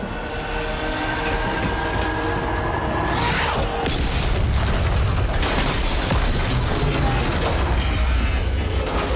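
A loud RPG rocket blast in Batman Arkham Knight lands as a broad, rumbling boom about three seconds in, followed by sustained crashing, roaring game noise that stays dense and loud to the end.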